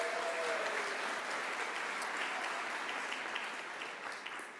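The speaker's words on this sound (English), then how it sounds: "Let's give our sponsors an applause." Audience at a New Mexico governor candidate forum applauding its sponsors, a dense steady clapping that holds for several seconds and slowly thins out near the end.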